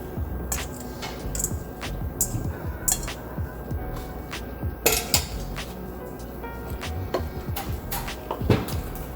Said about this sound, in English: We are going to toss the pasta into this mixture.